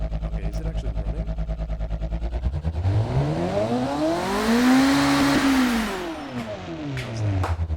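A car engine in the BeamNG driving game runs loudly at a throbbing idle, then revs up and down in a rising and falling sweep, with tires briefly squealing.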